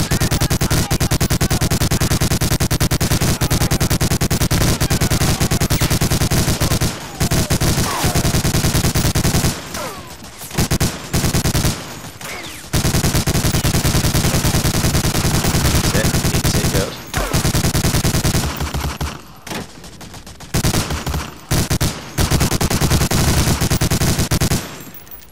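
Dense machine-gun fire from two MG emplacements during a counter-attack in the Battle of the Bocage mission of the video game Medal of Honor: Allied Assault. The loud, continuous rattling volleys break off briefly a few times before resuming.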